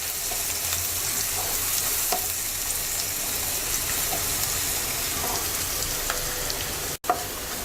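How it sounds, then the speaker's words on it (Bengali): Three medium onions, finely chopped, frying in a pan for a fish and tomato curry: a steady, close crackling sizzle throughout, with a few sharper pops and a brief break near the end. "মিডিয়াম সাইজের 3টা পেঁয়াজ কুচি দিয়ে দিচ্ছি। পেঁয়াজটা হালকা ভেজে নেব।"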